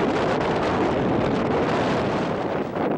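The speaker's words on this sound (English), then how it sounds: "the wind is really blowing now" Strong wind roars steadily across the exposed trig point at the Great Orme summit, buffeting the microphone with dense, continuous rushing noise close up throughout.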